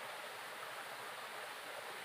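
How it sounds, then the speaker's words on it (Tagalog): A waterfall flows steadily, heard as a soft, unbroken rushing wash of water with no breaks or voices. "Yan ang falls."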